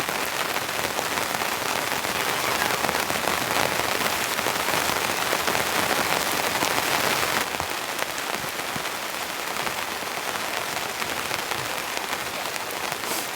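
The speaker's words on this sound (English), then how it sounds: "That's like full power rain coming down now, and the drops are just dead straight" Heavy rain pounds steadily on a tent at a campsite, a dense close patter of drops that stays loud and unbroken with a slight shift in tone partway through and no voices.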